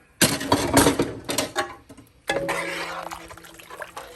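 Spoon stirring ingredients into a pot of warm water for Louisiana gumbo, close sloshing and scraping in two bursts, the second trailing into a softer liquid swirl with faint mechanical clinks.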